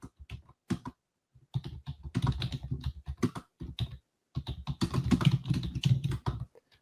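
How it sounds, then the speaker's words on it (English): Someone types on a computer keyboard in quick, uneven bursts of crisp key clicks, with short pauses between runs of keystrokes; it sounds close and fairly clear. "I'm going to type something in our chat"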